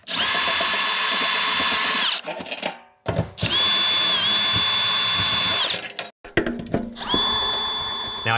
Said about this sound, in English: let's take advantage and use the drill to take the heads off